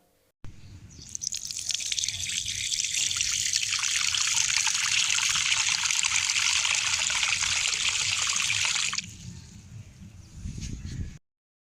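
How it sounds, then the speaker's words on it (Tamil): Water poured steadily onto the soil around the base of a coleus plant on a terrace garden, a continuous loud trickle and splash lasting several seconds before stopping, followed by a softer dribble. "இதுக்கு தண்ணீர் விடும்போது பார்த்திங்கன்னா அதோட தூர் பகுதியை சுற்றி உள்ள மண்ணில் தான் விடணும்."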